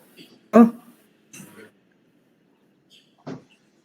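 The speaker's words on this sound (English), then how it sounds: "I'm gonna knock on the door" Knuckles knock on a door during a tabletop role-playing game: three separate, spaced knocks, the first loudest and the last after a longer pause, with faint voices nearby.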